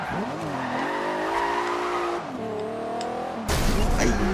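A McLaren P1 drifting in the video game Forza Horizon 2, its tires squealing in a long wavering screech over the engine drone, ending in a sudden louder burst of noise.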